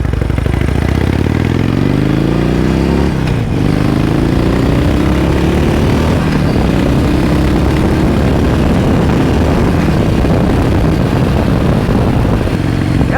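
Harley-Davidson Sportster motorcycle engine runs loud and close, a dense continuous rumble that revs up then settles into a steady throbbing idle, with no talking.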